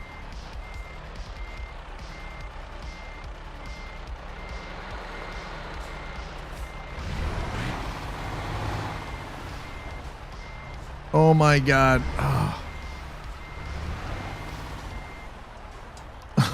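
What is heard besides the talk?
rough-sounding truck in the video game Euro Truck Simulator 2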